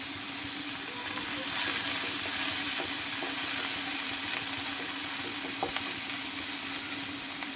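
Pointed gourd sautéing in a pan, a soft, steady hiss of frying that continues evenly and fairly quietly, with faint occasional stirring ticks and no voices.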